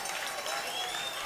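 A crowd at a varsity high school football game applauds in a steady, dense patter of clapping that sounds somewhat distant and continues for the whole moment.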